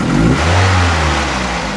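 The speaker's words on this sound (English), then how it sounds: "So I'm gonna go ahead and do a snap throttle to see if this pressure is dropping or not." A Toyota Celica engine, being checked for a P0171 lean fault, revs sharply in a single snap of the throttle, loud and close, then settles back toward idle with no talking.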